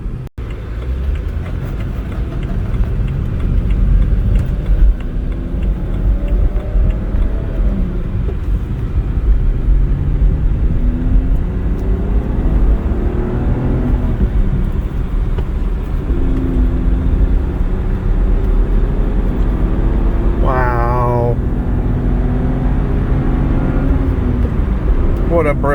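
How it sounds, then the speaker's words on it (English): A 2011 BMW 328 xDrive manual wagon cruising on a freeway, a loud, steady interior road and engine rumble with tire roar and wind, and a person talking over it. "What a brilliant car. That's 4th gear, 80 miles an hour."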